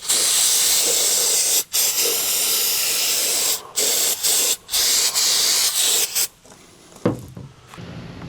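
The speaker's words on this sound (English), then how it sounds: "And we're going to use some brake cleaner." Loud, steady hiss of brake cleaner sprayed onto a B&W Companion hitch, several long bursts broken by short pauses, close and dominant, ending with faint clinks and handling noises.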